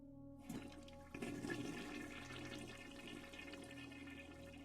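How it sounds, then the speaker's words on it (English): A toilet flushes in a bathroom scene from the visual novel Steins;Gate, starting with a sharp onset and building into a sustained rushing, gurgling wash of water that holds steady to the end, with no talking. "Bathroom sounds. I jump at the sound of a running shower. That's a toilet, but good try."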